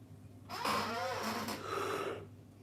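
A long, drawn-out yawn with a breathy, groaning tone, fairly quiet and close, lasting a couple of seconds.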